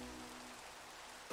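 Rain falls in Minecraft as a soft, faint, steady hiss of drops, continuous and even, with a brief louder thump right at the end.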